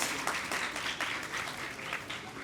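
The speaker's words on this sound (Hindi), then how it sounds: "तालियां बजाएं भाई" Welcoming applause from a hemophilia day event audience, quiet and distant, with uneven pulses of clapping rising and falling over a couple of seconds.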